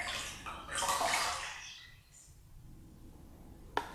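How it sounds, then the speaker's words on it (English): Tap water runs and splashes for about two seconds while a face treatment is rinsed off at a galvanic spa session, then fades to quiet with a brief knock near the end. "So now we're going to wash it all off."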